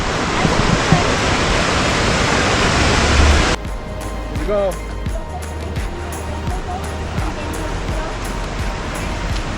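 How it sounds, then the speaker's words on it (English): Rushing water from a riverside waterfall roars loudly and close, a dense steady wash that eases slightly partway through as people walk toward it, with someone speaking briefly over the noise. "We're gonna go into that waterfall."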